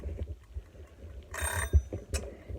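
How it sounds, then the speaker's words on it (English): A kitchen timer rings while bread dough is kneaded and left to rest, giving a short bright burst of ringing followed by a second brief ring against a low background hum. "There is my timer."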